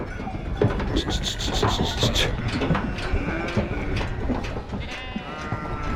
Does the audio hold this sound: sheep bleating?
yes